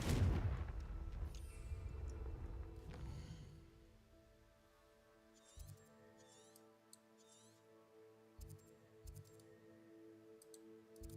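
A Confringo fire spell bursts in Hogwarts Legacy: a loud, rumbling blast fills the first few seconds and fades into game music, with a few sharp clicks and thuds later on.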